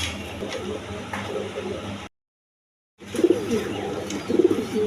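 Pigeons at a pigeon farm coo steadily nearby, with low throaty calls that swell in the second half, broken by a short moment of silence.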